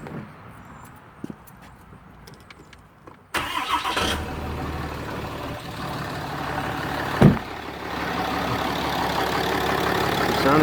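A Ram 2500 with the 6.7 Cummins diesel fires up after a few faint clicks, then settles into a loud, steady, close diesel idle with a brief louder surge partway through, no talking.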